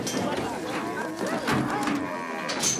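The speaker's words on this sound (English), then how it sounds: "A cattle auction in Hoedfontein." Cattle moo in repeated drawn-out calls at a busy cattle auction in Hoedfontein where bullocks, cows and bulls are sold. Several animals overlap, some nearer and some farther, over a murmur of crowd noise.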